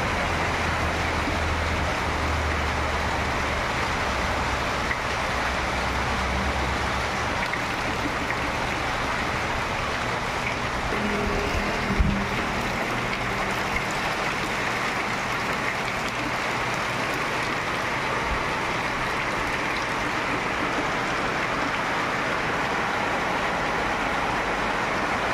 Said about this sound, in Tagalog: Inaabot po kami ng ulan dito sa daan.